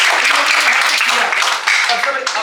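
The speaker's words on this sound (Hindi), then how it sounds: "चलो बहुत बढ़िया, तालियां बजाओ सर।" Participants at an acting workshop break into dense, sustained applause that fills the room, with a voice talking underneath.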